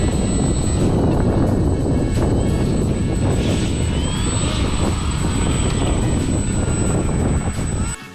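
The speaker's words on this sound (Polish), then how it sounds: "Driftowanie samolotem RC." An RC model airplane flies close by outdoors with a loud, steady buzzing propeller drone that holds for about eight seconds before easing off at the end, with a thin high whine running above it.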